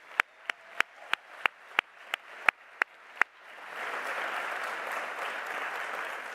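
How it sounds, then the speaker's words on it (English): Applause for professors at a university graduation ceremony: a single pair of hands claps about ten sharp, evenly spaced times close by, then a large audience joins in with broad, sustained clapping. "Let's give them a huge round of applause."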